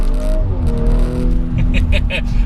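An ABT-tuned Audi RS5 engine rumbles loudly up close, its exhaust note rising and wavering, while someone talks over it.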